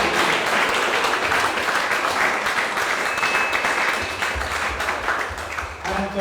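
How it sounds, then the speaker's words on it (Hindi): A church congregation breaking into loud, sustained applause at a Christmas service, dense clapping from many hands throughout that thins slightly toward the end as low voices and instruments begin to come in. "इस बादशाह के लिए मैं चाहता हूँ हम जोरदार एक दफा ताली"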